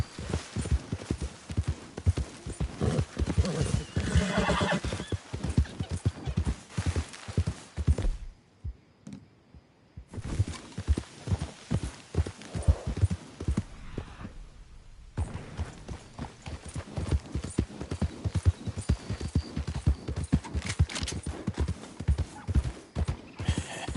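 A horse in Red Dead Redemption gallops in a fast, steady clip-clop of hooves for most of the stretch, with short pauses where the hoofbeats drop out and an occasional whinny, loud and close.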